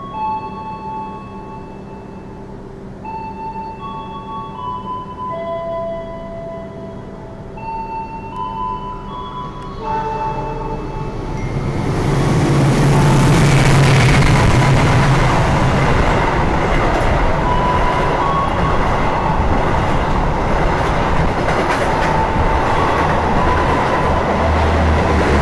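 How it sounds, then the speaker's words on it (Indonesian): Argo Dwi Pangga train overtaking on the line, heard from a halted carriage: a quiet hum with faint tones builds into a loud, continuous roar of the passing train with rumbling wheels that lasts to the end. "Setelah disusul kereta api Argo Dwi Pangga"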